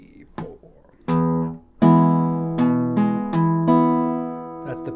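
Fingerpicking on guitar in straight eighth notes, with paired double stops, plays close and clear after a brief spoken count-in.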